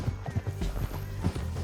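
Horse hooves clip-clopping in a steady galloping rhythm in Red Dead Redemption 2, close and moderately loud, with a brief whinny-like tone and faint game voices underneath.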